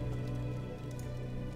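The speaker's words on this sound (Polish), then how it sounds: "Nie wiem, rozpadało się. Trochę się dźwięk deszczu zepsuł." Steady rainfall in the video game Gothic I Remaster, a continuous soft patter of drops on surfaces with a low hum beneath, quiet and unbroken throughout.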